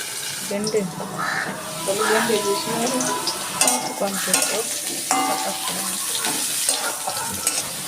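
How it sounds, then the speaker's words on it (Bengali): Salted potatoes fry in a covered pan while being stirred, giving a steady sizzle with intermittent scraping and clinking. A voice talks faintly underneath throughout. "আমি আলুটা একটু ডাকা দিয়ে দিয়ে আস্তে আস্তে ভেজে নিচ্ছি"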